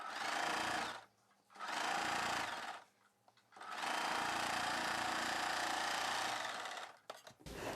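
A sewing machine stitches a shaped blouse belt piece in three steady whirring runs, the longest last, separated by brief pauses; close and moderately loud with no voices.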